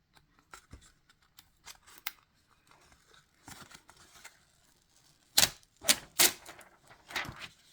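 Transfer tape peeling off a vinyl design for a keepsake box gives quiet, intermittent crackly tearing and crinkling, with a cluster of louder ripping pulls near the end.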